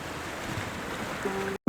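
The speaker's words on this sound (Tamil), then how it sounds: "நாம் ஒரு பயங்கர அமானுஷம் நிறைந்த அருவிக்கு பக்கத்தில் தான் இருக்கோம்" A steady, loud rushing roar from a waterfall in dense forest at Five Falls, continuous for about a second and a half before cutting off abruptly.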